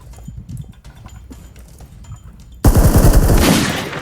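Gunshots in the video game PUBG Lite: quieter scattered sounds give way to a loud, fast burst of automatic fire up close that rattles on for the rest of the moment, with no voices.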